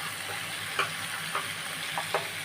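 Potatoes and cauliflower fry with spices in a pan, giving a steady, fairly quiet sizzle broken by a few soft stirring clinks and scrapes.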